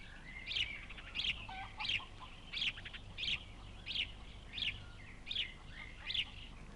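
Wild birds call outside a broiler house: a short chirping phrase repeats about every two-thirds of a second, clear and mid-distance over a steady low background hum.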